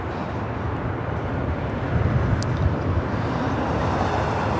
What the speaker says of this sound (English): It's a 737 at MAX 9 coming from Seattle with Alaska.